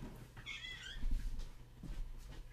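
A house cat meows after being let out of an office where it was locked in. Soft, close meows with a rising, wavering pitch, partly muffled by low background noise.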